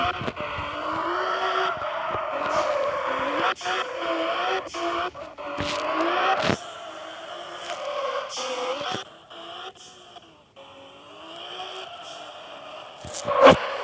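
A car drifting in the Car Parking 3D mobile game, with long wavering engine drones and tire squeal that rise and fall, interrupted by brief clicks, loud and continuous.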